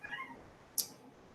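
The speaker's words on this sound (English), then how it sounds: "my cat's meowing because one of us is not in the living room" A house cat meows in a home near the living room: a short, faint, moderately distant meow at the start, followed by a single sharp click and quiet room tone.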